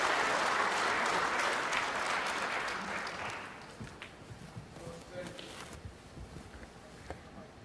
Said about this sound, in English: the applause from the other table didn't take O'Sullivan off